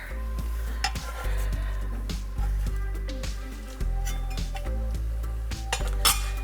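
A utensil scrapes and knocks against a pan as raw broccoli and onions are stirred for vegetable fried rice. Repeated metallic clinks sound close over a faint sizzle and a steady low hum from the stove.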